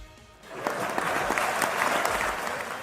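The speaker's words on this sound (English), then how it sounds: "The crowd claps as the Cerise laboratory is officially opened." Crowd applause at the official opening of a laboratory, a dense and steady wash of many hands clapping that swells in after a quiet moment and carries on evenly.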